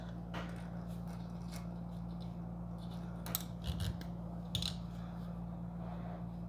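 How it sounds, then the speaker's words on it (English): Snipping off leftover 3D-printed parts during a Prusa MK3S to MK3S+ printer upgrade, a few quiet, sharp cutter clicks spaced irregularly over a steady low hum. "Make sure that we cut the remaining parts."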